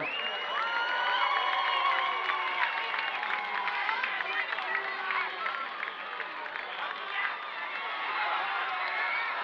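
A crowd in the stands at a Stoughton High School football game cheers, whoops and applauds steadily for the 2017 cheer squad and dance team, a broad, continuous roar with scattered shouts, heard from a distance.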